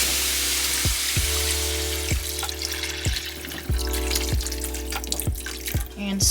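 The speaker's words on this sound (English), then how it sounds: "and then we're going to put water" Water runs steadily into a pot of glazed beef being braised until tender, a continuous close splashing pour with a few soft clanks of the pot or utensil at regular intervals.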